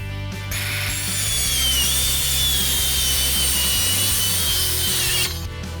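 A power saw rips through a plywood side piece for a rabbit nesting box, a loud, steady high whine with a low motor drone that runs for several seconds and stops abruptly.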